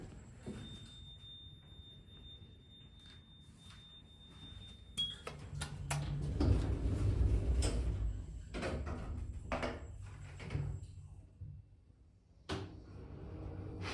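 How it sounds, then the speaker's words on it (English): The door of a small, slow Elex hydraulic lift, modified by Boss, at La Promenade in Caloundra, Queensland, runs after a steady tone, with a low rumbling hum, several sharp clunks and rattles of the panels sliding, and a final thud. "The door sounds a lot better than a few days ago, well yesterday."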